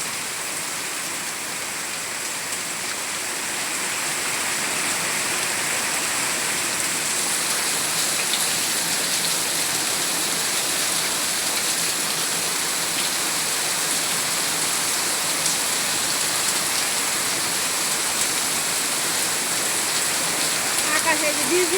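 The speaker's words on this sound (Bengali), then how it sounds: "একদম ঝুম বৃষ্টি নামছে" Heavy rain pours down in the evening during a thunderstorm after a day of rumbling skies, a dense, loud, unbroken hiss of drops on surfaces that holds steady for the whole stretch.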